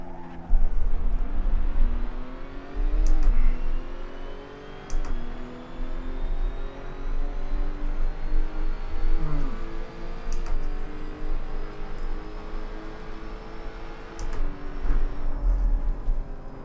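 A Lotus Evora races around Spa in Assetto Corsa, its engine loud and continuous, rising through the gears with sharp drops at each shift and a few brief skids.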